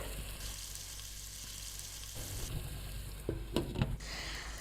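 Marinated meat for achari mangsho sizzles and fries steadily in a pan, faint and continuous, with a few soft clinks of utensils near the end.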